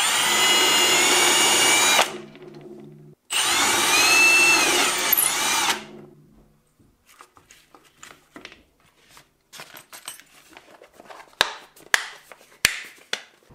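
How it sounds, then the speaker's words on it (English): A power drill bores a hole into a sewing table while servicing an old Chandler industrial sewing machine (Bernina 950 type), two loud sustained whines of about two and three seconds, then scattered clicks and taps of handling. "Now that this hole is located, I'm going to drill it a little deeper."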